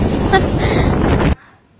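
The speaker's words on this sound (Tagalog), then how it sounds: "sobrang lakas ng hangin" Strong wind carrying drizzle roars and buffets the microphone for over a second in Ilocos Norte, then cuts off abruptly to near silence.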